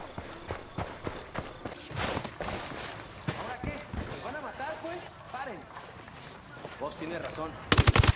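Gunfire in Ghost Recon Wildlands: scattered sharp shots and clattering impacts mixed with game sounds and voices, ending in a loud rapid burst of shots close by.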